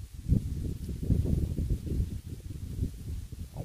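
Wind blowing outdoors at a fishing spot in the woods, a low rumbling gusty buffeting that rises and falls continuously and is close and fairly loud, with no voices.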